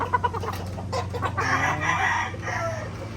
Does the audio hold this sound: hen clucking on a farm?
yes